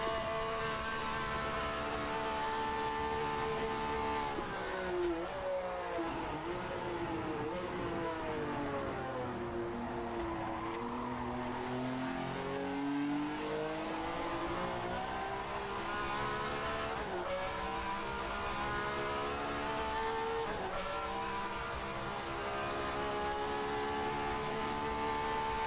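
A 1967 Formula 1 race car engine in a racing game screams steadily close by, its pitch dipping and climbing through gear changes and corners, with faint tire squeal and no talking.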